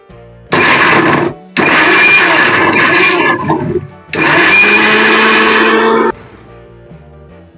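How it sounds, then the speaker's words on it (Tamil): A kitchen mixer grinder whirs loudly in three bursts with short pauses between them while grinding tomatoes, dried red chillies and salt into chutney. "இப்போ மிக்சியில இதை கிரைண்ட் பண்ணிடணும்."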